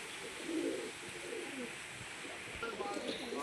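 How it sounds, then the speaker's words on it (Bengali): White Andhra pigeons cooing in a loft, soft low repeated coos layered over one another, with a voice talking nearby. "এগুলো যেগুলো সাদা রয়েছে, ফিট সাদা, এগুলো সব আন্ধ্রা পায়রা।"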